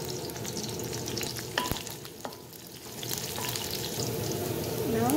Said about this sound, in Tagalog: Wait until mag-golden brown kunti yung sibuyas ta.